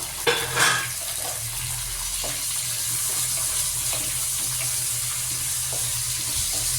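Three medium onions fry for chicken curry, a continuous close sizzle in a pan with a clatter of utensils at the start and light stirring scrapes throughout.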